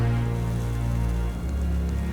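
Steady rain falls during a night walk along a reputedly haunted road, a continuous dense patter that fills the whole stretch evenly and loudly, with no voices heard.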